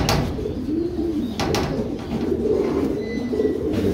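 A homing racing pigeon at a loft coos softly in low, rolling calls, close by, with a couple of sharp knocks and faint background noise between the coos.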